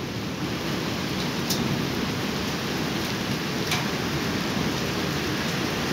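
Dense hail and heavy rain roar without a break during a storm with a southwesterly wind in Mersin. The loud wash stays even and constant throughout.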